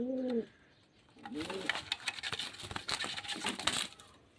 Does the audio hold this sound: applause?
no